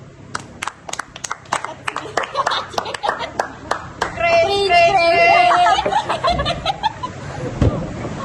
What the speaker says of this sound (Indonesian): Tepuk tangan untuk Marta